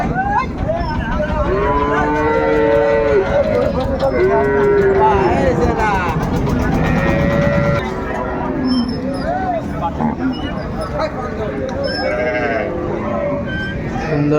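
Cows with calves lowing at a busy village cattle market, several long moos and bleat-like calls rising over a steady crowd murmur, with people talking and bargaining throughout.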